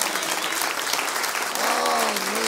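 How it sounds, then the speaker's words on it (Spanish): Congregation at a Friday evangelical church meeting applauds, a dense steady clapping that fills the room, with a voice rising over it near the end. "Un aplauso"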